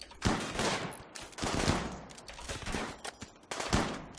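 A volley of gunshots in the video game RimWorld: several sharp, close reports in quick irregular succession, each with a short decaying tail, heard alone without talk.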